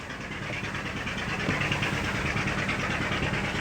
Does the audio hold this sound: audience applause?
no